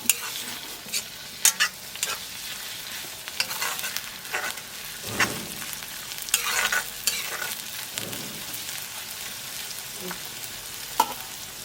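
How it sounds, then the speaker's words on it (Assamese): Half-fried onions stir-fry with crushed ginger, garlic and green chili for chicken fry, a close, lively sizzle punctuated by frequent sharp spatula scrapes and clinks against the pan. "এই পিঁয়াজখিনি আধা ভজা হোৱাৰ পাছত আপোনাৰ এই যে আদা, নহৰু আৰু জলকীয়া যে থেতেলি থৈছিলে সেইখিনিও দি দিব তাতে। তাৰপৰা অলপ লৰাই থাকিব।"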